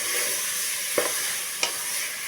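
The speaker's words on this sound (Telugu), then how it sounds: "బాగా ఇలా కలుపుకొని" Potato and brinjal curry gets stirred in a pan over a low sizzle, with two brief scraping strokes of the spoon against the pan.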